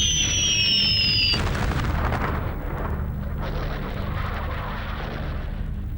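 Heavy bomb explosions during the London Blitz, a loud rolling boom that sets off after a fading whistle-like tone and then rumbles on in a continuous deep roar with crackling bursts.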